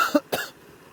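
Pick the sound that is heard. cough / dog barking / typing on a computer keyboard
cough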